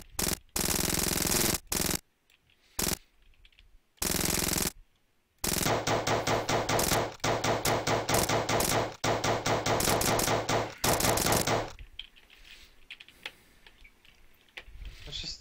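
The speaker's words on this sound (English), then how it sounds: "Stick with machine gun for now, and then we'll get like lasers later, or get a shotgun." Machine-gun fire rattles in bursts in a zombie defense video game, loud rapid clusters of shots separated by brief gaps, fading into quieter game noise at the end.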